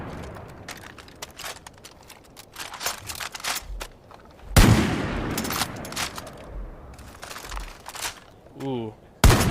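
A GM6 Lynx .50 BMG rifle firing in the video game Division of Arms, loud heavy shots at irregular intervals with a big booming blast near the middle, mixed with footsteps, handling noises and someone talking over them.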